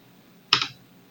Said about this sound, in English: I will type sudo yum